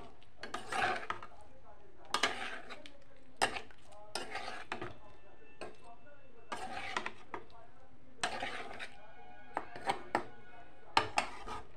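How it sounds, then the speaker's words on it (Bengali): A spoon or spatula scrapes and clinks against a pan as cauliflower florets are mixed, in irregular bursts of clatter with quiet gaps between them, close and moderately loud. "এখন দিয়ে দেব ফুলকপিগুলি। ভালোভাবে মিশিয়ে নেব।"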